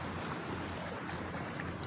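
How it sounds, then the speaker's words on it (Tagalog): Rough sea at high tide washing against a boat off the coast where milkfish are found, a continuous broadband roar of waves and wind buffeting the microphone, loud and close with no voices. "Bakit maalon? Kasi mag-high tide."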